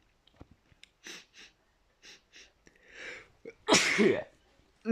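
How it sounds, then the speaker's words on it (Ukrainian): Someone sneezes after eating hot, spicy chips: small sniffs and breaths build to a loud, close, explosive sneeze, with no talk over it. "і ще воно гірко чихається"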